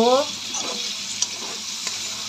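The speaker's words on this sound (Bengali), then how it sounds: "এই যে বন্ধুরা, সবজি আমার লাল লাল করে ভাজা হয়ে যাচ্ছে।" Vegetables sizzle and fry in a pan with steady broadband crackle, stirred occasionally, with faint clicks of a utensil against the pan near the end and a brief voice at the very start.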